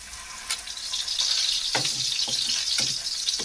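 Smoked haddock searing in a hot pan, a continuous bright sizzle with a few sharp clatters and scraping knocks as the fish is moved, with no talk.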